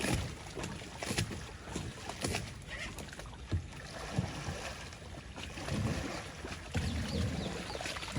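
A small boat is rocked in a fish pond to stir up waves with the aerator off, giving irregular sloshing and lapping water with some buffeting wind noise, close and fairly quiet, without speech.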